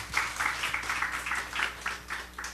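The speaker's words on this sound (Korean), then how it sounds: "하늘을 위해 하나님께 영광의 박수를" A church congregation at a Sunday service claps together in a rhythmic, pulsing burst of applause, the hands landing in steady beats for a couple of seconds.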